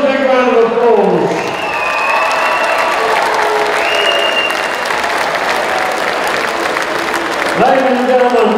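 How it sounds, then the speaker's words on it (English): Boxing audience applauding and cheering after a professional debut bout, sustained loud clapping across the whole stretch, with a crowd roar and a few higher shouts rising near the end. "give both of these boys a big round of applause"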